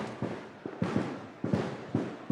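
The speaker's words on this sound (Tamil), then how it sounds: "இந்த பட்டாசு நிறுத்த சொல்லு தம்பி" At an outdoor felicitation ceremony, a short run of firecrackers bursts in quick, evenly spaced sharp cracks, each followed by a brief rattling decay, close by.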